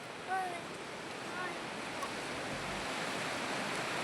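Waves washing onto a shore as a steady broad rush of surf and wind, fairly distant and unbroken, with faint voices in the background.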